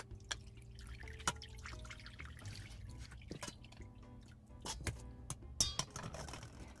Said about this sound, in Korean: 10분 정도 불린 엿기름을 체망에 걸러줍니다.